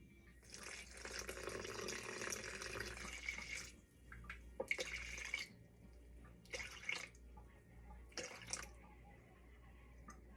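Warm water poured from a container into a bowl of sourdough starter, a splashing, trickling stream in a few separate bursts with drips between, close and moderately quiet.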